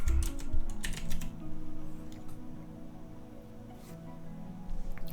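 Computer keyboard keys clatter in quick, uneven bursts, close and fairly quiet, with a steady low hum underneath and no voices.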